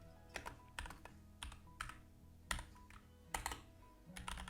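Code is typed on a computer keyboard in short, uneven bursts of close, crisp key clicks with brief pauses between, with no voice.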